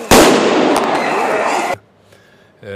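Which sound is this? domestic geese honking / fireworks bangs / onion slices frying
fireworks bangs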